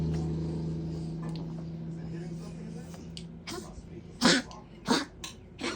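A chihuahua makes a few short, sharp coughing, throat-clearing bursts near the end, close to the listener, over a steady low background hum.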